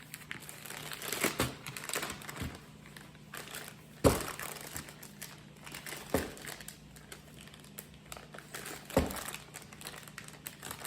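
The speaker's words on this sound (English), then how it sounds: "close this up, take the air out, flatten it, squeeze the air out, and zip it up" Plastic zip-top bag holding bulk Sam's Club meat is flattened, squeezed of air and zipped shut, giving soft crinkling and crumpling with a few sharper crackles and clicks, close up and fairly quiet, with no talk.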